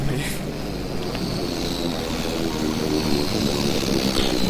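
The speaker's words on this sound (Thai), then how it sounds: "นั่นไงฮะเครื่องบินตก" An airplane going down in The Groundskeeper game, a loud continuous propeller drone with wind-like roar filling the whole stretch, with a voice faintly under it.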